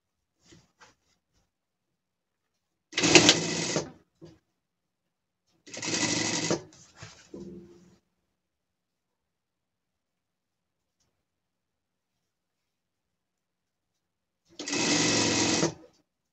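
Sewing machine running a seam on a pet costume in short separate bursts: three brisk stitching runs of about a second each, with a faint clicking between them, then a long silence before one final burst.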